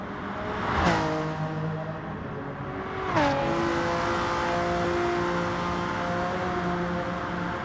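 Porsche and NSX race cars duel in a racing game, engines droning steadily with two sharp gear-shift drops in pitch as they accelerate, the engine notes close and sustained without any voices.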